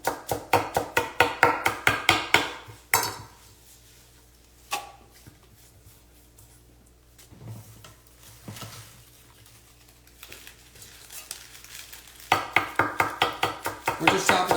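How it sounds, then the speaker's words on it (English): Green leaf lettuce being chopped for a salad, a quick series of crisp knife strokes on a board at the start and again at the end, with a quieter stretch of faint handling noise in between. "We're just chopping up some salad."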